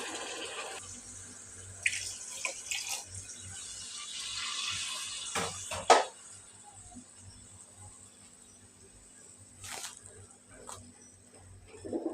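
Water is poured into a cooking pot of fish-head curry with mung dal, a soft splashing and gurgle in the first half that then fades to quiet stirring sounds.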